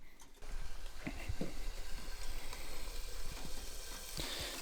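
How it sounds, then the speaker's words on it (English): Smokie sausages sizzle in a pan while breakfast is cooked at a campsite, a steady close crackling hiss with scattered pops and occasional clinks of a utensil. "Got some smokies sizzling."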